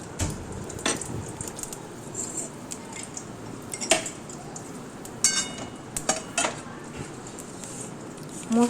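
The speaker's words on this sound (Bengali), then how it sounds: "খুব ভালোভাবে মশলাটাকে আমি শিলে বেটে নেব" Spice paste is ground on a stone shil slab: a steady, close rasping scrape with sharp stone knocks and clicks scattered throughout.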